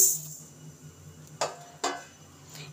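Moong dal tipped into a metal kadai for frying, heard as two quick rattling clinks against the pan over a quiet background, with no voices.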